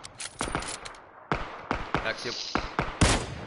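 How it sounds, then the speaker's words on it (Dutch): Gunfire in the battle royale game PUBG: several sharp shots at irregular intervals, some in quick clusters, heard under someone speaking Dutch. "Ja, ik zie schoten, maar ik weet niet waar."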